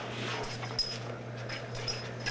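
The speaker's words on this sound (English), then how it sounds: "Cute puppy." A puppy whimpers and yips faintly in short, high bursts over a steady low hum, heard indoors with no talking.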